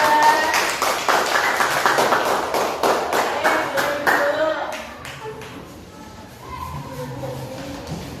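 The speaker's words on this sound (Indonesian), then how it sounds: "tepuk tangan buat kelompok 2" A primary school classroom clapping for a student group in a quick, uneven patter, fading after a few seconds as voices take over.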